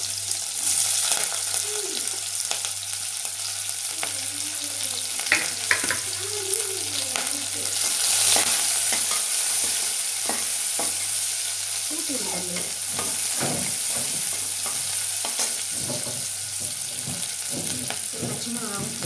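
Chopped large onion hits hot oil seasoned with fennel and cumin for a green field bean curry, sizzling and frying steadily throughout with occasional stirring scrapes and clinks, close and continuous.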